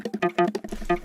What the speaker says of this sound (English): the stringy guitar sounding sample, just like looped over and over again